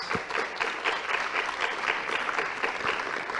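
Steady applause from a modest crowd at a public procurement forum panel session, individual claps audible in a continuous pattering wash.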